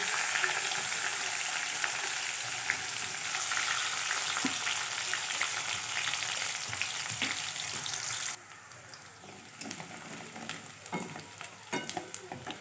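Mustard seeds, cumin, curry leaves and onion frying in a pan, a dense crackling sizzle that suddenly drops lower partway, then continues more softly with scattered stirring taps and no voices.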